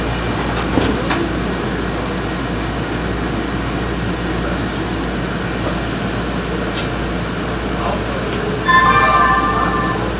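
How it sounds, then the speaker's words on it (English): A Metro Blue Line train on its run from San Pedro Station to 7th Street Metro Center in Los Angeles rumbles steadily along the rails, a continuous close interior roar with faint squeals and brief tonal beeps near the end. "This is a Metro Blue Line train."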